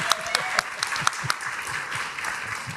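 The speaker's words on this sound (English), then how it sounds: "A big round of applause for Nigel Tier." At a law anniversary celebration, the audience gives a round of applause for a judge, a continuous patter of clapping with a few sharper claps standing out and a voice murmuring under it.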